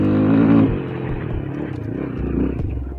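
Scrambler 250 motorcycle engine running nearby, a steady low rumble that surges briefly then settles into an even throb with faint mechanical clatter.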